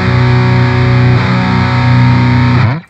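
A PRS SE Custom 24-08 electric guitar on its neck pickup plays through heavy distortion, a thick sustained chord ringing loudly before a quick slide and abrupt cutoff.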